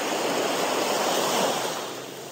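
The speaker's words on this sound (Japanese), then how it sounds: "波も静かでいい感じです。" Calm sea waves on the coast at Desaru, Malaysia, give a soft continuous wash of surf that fades slightly at the end, heard alone with no talking.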